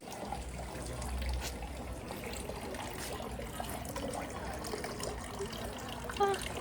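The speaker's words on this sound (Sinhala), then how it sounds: "වතුර බොන්න තියෙන්නේ." Water streams steadily from a drinking fountain at Todai-ji temple in Nara, a continuous trickling splash under faint outdoor crowd murmur.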